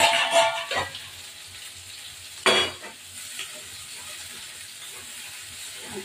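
Ridge gourd in poppy-seed paste, already seasoned with salt, turmeric and sugar, frying in oil with a close, hissing sizzle; stirring surges open and return near the middle, then the sizzle settles low and steady, with no voices.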